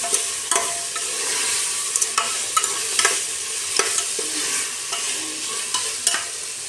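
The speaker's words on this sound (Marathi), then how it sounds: "तर याच्यात आपण आता आपली डाळ आणि हे टाकून घेऊ, भाज्या. ह्याला पण छान मिक्स करून घेऊया." Dal and vegetables stirred together in a pot for ration-rice khichdi: a spoon scrapes the pot in repeated sharp strokes over a steady bubbling hiss, close and clear, with no talking.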